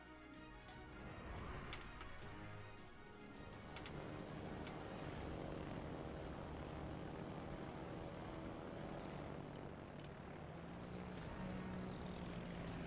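A propeller airplane engine drones steadily in a video game, a loud continuous hum with layered engine harmonics that holds without pause throughout, no voices over it.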